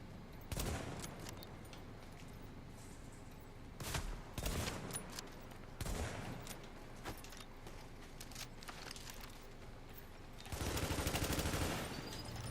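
Gunfire in The Division video game: several sharp bursts and volleys of shots at irregular intervals, with a longer sustained burst near the end, loud against a quieter game background.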